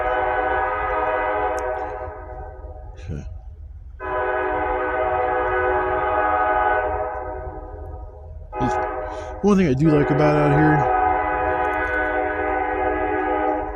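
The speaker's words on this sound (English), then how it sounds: "No matter where you're at out here, you'll hear the trains at some point." A train horn sounds in long sustained blasts with short breaks, loud and close, while someone talks over the rumbling train.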